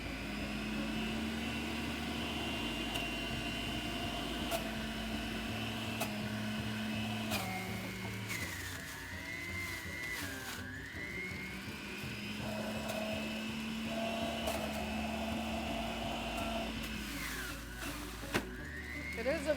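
A high-powered juicer running on high blends pineapple, turmeric and carrots into juice, giving a loud, steady motor whine throughout with shifts in pitch as the load changes and the blades pulverize the produce.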